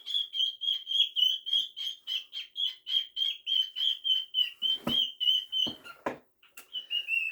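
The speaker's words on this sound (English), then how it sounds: "really sorry if you really like bird noises" A pet bird chirps close by in a steady, rapid run of sharp, evenly spaced notes, pausing briefly near the end before resuming, with no talking.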